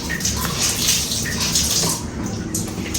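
Water pours steadily out of a soft, spongy mat as a continuous, close, fairly loud splashing gush, with a few brighter trickles over it and no speech.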